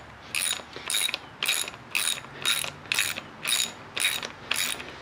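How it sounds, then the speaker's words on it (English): A 10mm ratchet clicks through nine evenly spaced bursts while undoing bolts on a Fox Talas suspension fork, each burst a crisp, close metallic ratcheting with no talk. "just take your 10mm, undo both of these bolts"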